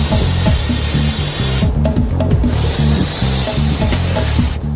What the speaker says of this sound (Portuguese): Encher 12 balões meteorológicos com gás hélio é um processo demorado.